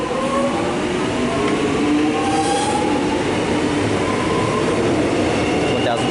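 A Melbourne suburban train departs South Morang station on the Mernda line, a continuous loud rumble of wheels and motors with faint rail squeal, heard close and steady throughout, with a voice speaking over it.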